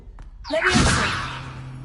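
A Levioso levitation spell cast in Hogwarts Legacy makes a rising whoosh with a bright magical shimmer that swells and slowly fades, a single close, moderately loud effect.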